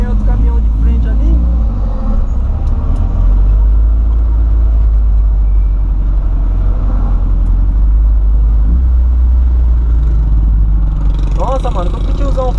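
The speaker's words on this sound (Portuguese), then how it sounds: "Aí vem outro caminhão de frente ali." An oncoming truck passes a turbocharged boxy Volkswagen Voyage on the road, a steady loud engine and road rumble building and fading as it goes by, under the car's own drone with someone talking throughout.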